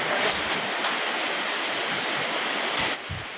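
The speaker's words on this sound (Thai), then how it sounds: "น้ำไหลทั้งทางหมดแล้วครับ" Flood water rushing over a road makes a loud, continuous broadband roar like a stream or waterfall, steady throughout with a few brief bumps and no voices.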